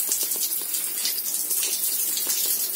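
Water running from a very old shower in a guesthouse room, a steady close hiss of spray splashing without pause for a few seconds, with no voices.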